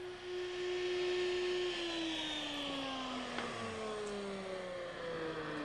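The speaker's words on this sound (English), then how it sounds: "use an 1/8 inch radius bit on the router table" A router table spinning a 1/8 inch radius bit through wood, the motor's whine holding steady and then dipping in pitch as the cut loads it, close and continuous with no talking.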